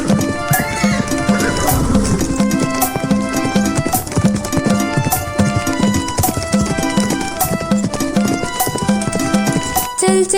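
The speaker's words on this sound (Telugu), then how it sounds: "చల్ చల్ గుర్రం చలాకి గుర్రం రాజు ఎక్కే రంగుల గుర్రం" A horse neighs and hooves clip-clop in a steady rhythm, mixed into the bright, continuous music of an animated Telugu children's rhyme about a colourful horse that a king rides.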